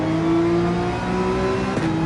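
A race car engine in the Gran Turismo 7 video game holds a steady, loud, high-pitched drone at constant revs for about two seconds, close up and alone.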